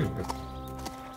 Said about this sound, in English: Horses, come and have a snack.